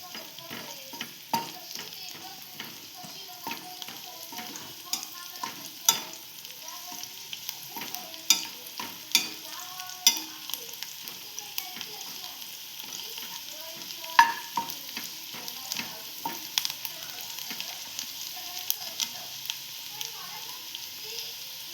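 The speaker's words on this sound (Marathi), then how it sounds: "आपण ते आता हलवून घेऊया." Paneer chili frying in a pan while being stirred: a steady sizzle with repeated sharp scraping and clinking strokes of the spoon against the pan, close and moderately loud, with no talk.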